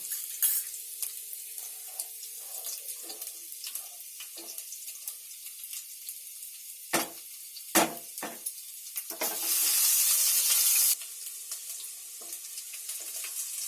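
Ginger, garlic, chilli and onion frying in oil for Chinese fried rice, a low sizzle broken by sporadic spoon scrapes and a few sharp knocks, then a louder rush of hissing for a couple of seconds before settling again.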